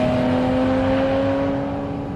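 A Porsche GT4 RS engine holds a loud, steady high-revving note on a mountain road, a sustained close-up drone with strong harmonic tones and no voices.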